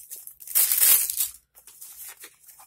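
A new Boker knife being unwrapped from its packaging: a close, brief burst of tearing and crinkling, then a few quieter rustles.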